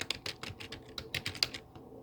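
A computer keyboard is tapped in quick, uneven bursts of keystrokes, a password being typed, with close, moderately quiet clicks and no voices.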